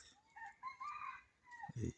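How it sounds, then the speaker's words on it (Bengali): Junglefowl in a garden calling at dawn, a rooster-like crow rising and falling in two drawn-out phrases, with a short low cluck at the end; fairly near and alone, no talk. "দেখছেন বনমোরগগুলা কীভাবে ডাকাডাকি করতেছে।"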